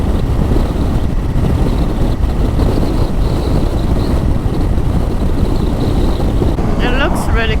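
Strong wind roars over the microphone while a motorcycle is ridden through Spain near a national park, a loud continuous buffeting with low engine rumble throughout.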